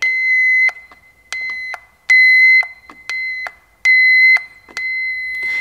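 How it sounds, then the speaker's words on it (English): A wire tracer probe picks up its signal along a broken airbag wire, giving loud, steady electronic beeps in repeated bursts of about half a second, some louder than others, with short gaps between them. "Now, listen really careful to the difference. The tone is a lot louder over here."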